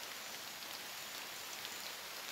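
Steady rain falls in a South West Papua jungle, an even, faint hiss of drops on leaves and surfaces throughout with no other sounds.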